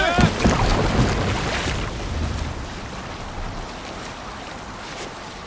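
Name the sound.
ship sailing on waves in Assassin's Creed Valhalla video game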